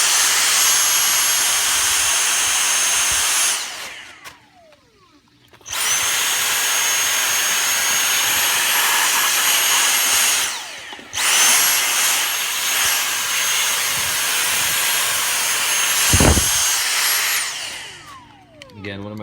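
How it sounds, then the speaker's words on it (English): Dyson V6 Trigger handheld vacuum cleaner used for window cleaning, a loud high-pitched whine running close, cutting off twice with brief spin-down and restart, and a short thump near the end. "highly recommend this Dyson hand vac"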